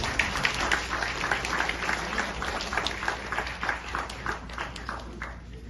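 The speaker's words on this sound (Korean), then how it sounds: "우리 목사님께 박수 보내주시면 감사하겠습니다" An audience at a wedding ceremony applauds the officiating pastor as he takes the stage, a steady moderate patter of many hands clapping in a hall.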